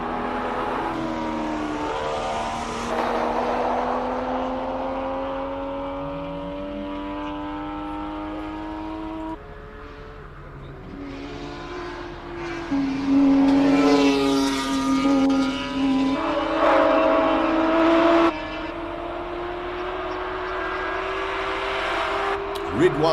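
A BMW race car at a hillclimb, running loud and fairly close with rising and falling engine tones through gear changes as it passes a speed trap, with a commentator talking over it throughout.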